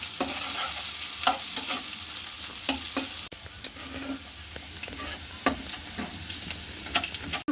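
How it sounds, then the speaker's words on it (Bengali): Chopped onions and garlic sizzle in hot oil in a pan, with sharp scraping stir strokes at intervals; the frying is loud at first, then drops to a quieter, steady hiss. "এখন পেঁয়াজ আর রসুনগুলোকে ভেজে নিব"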